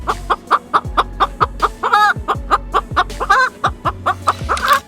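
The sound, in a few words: crow mimicking sounds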